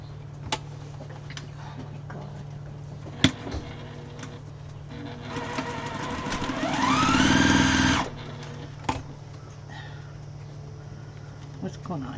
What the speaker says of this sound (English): Okay, so I'm gonna sew this on.